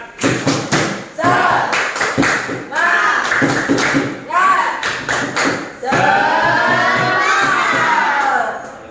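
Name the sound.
students doing tepuk semangat clapping chant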